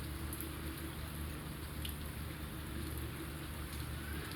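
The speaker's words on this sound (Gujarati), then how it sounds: "આમ હવે ઓછો વરસાદ થઈ ગયો છે" Unseasonal winter rain, now easing off, still falling in a steady continuous patter on surfaces outdoors, with no one speaking.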